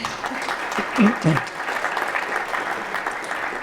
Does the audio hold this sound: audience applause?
yes